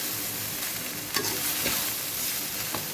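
Soybean chunks frying in a pan, a dense, loud, continuous sizzle heard up close with a couple of faint spoon scrapes.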